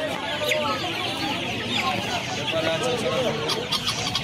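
Red Australian-breed chickens at a busy Uluberia poultry market near Kolkata, with many birds clucking and squawking close by in overlapping bursts, and people talking over the steady crowd noise.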